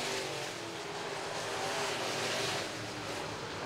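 IMCA modified race cars at RPM Speedway roar down the front straightaway in a heat race, a dense, steady, loud engine wash heard from the track with no talking.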